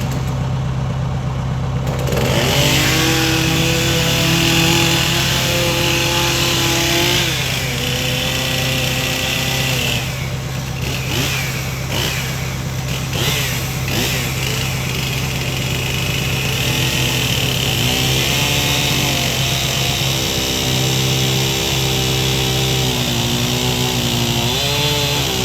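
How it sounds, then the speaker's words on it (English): Loader engine running steadily and loud nearby throughout, a constant mid-pitched drone with shifting tones as the throttle changes, no talk over it. "Doing some work like this and running the loader"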